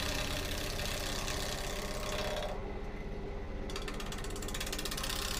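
Turning tool cutting a rough wet walnut bowl on a lathe, with steady close rhythmic chatter and grinding over motor hum that thins briefly midway and then resumes.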